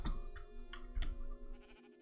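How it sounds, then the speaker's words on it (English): A sheep bleats in the video game Minecraft, heard as short wavering calls over a steady electronic game tone, with faint clicking, fairly soft and brief. "There's a sheep in a fucking boat."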